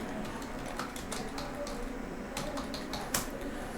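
Quiet keyboard typing at a computer, a cluster of light clicks early on and another burst near the end, faint and close, with a low background hum.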